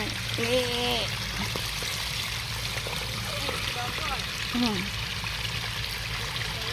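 Water trickling and pouring steadily at a waterfall in Nam Yuen, Ubon Ratchathani, during the rainy season, a continuous close stream of flow with people talking over it and birds calling.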